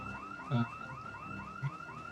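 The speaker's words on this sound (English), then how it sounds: "Was there a house alarm on that thing?" A looping car alarm whoops in repeated rising sweeps in the video game Project Zomboid, steady and moderately loud, with a couple of brief low thumps partway through.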